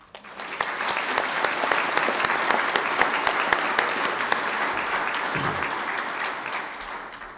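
A graduation hall audience applauds a hotel and catering management graduate, clapping starting abruptly, holding steady with sharp individual claps, then tapering off toward the end.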